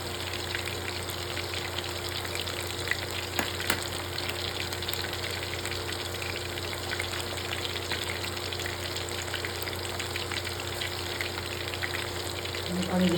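Anchovy fritters (ukoy na dilis) frying in a pan of oil, a steady close sizzle with faint bubbling that runs evenly throughout, without talk.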